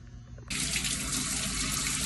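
Tap water in a factory building starts suddenly after a quiet moment and runs on as a steady, loud, hissing stream with no talk over it.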